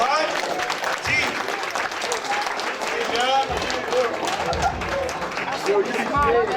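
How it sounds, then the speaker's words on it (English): Applause and cheering at a sports awards banquet for a silver medalist, dense clapping from a crowd mixed with chatter and voices talking over it throughout. "Let's clap it up for Atif Overton, all right?"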